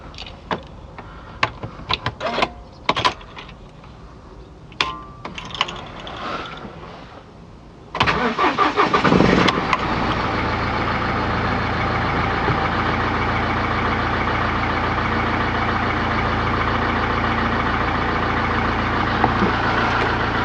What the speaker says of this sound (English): So I think the only thing left to do now is actually turn the ignition key on and see what happens.